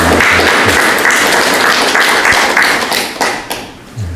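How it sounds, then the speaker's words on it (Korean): A church congregation applauding the choir after its hymn, loud dense clapping that carries on steadily, then thins and fades toward the end with a last few claps. "한번 격려하는 의미로 박수를 좀 뜨겁게 한번 더 쳐드렸으면 좋겠습니다."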